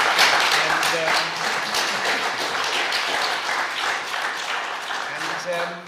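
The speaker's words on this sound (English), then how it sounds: "give a huge round of applause to our panel" An audience claps for a panel in sustained, dense applause that holds steady for several seconds, with a few voices faintly audible beneath it.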